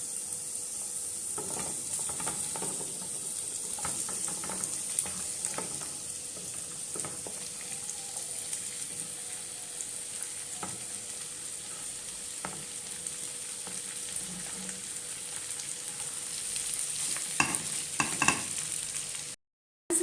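Spiced lamb lungs sizzle and fry in a pan with coriander while being stirred, a steady close sizzle with scraping stir sounds throughout and a brief cutoff near the end.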